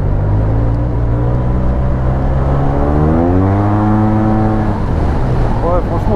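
A 2015 Yamaha TMAX 530 scooter fitted with a full Malossi kit accelerates hard, its close, loud engine note climbing steadily in pitch, then dropping and rising again as it shifts, with a voice briefly audible.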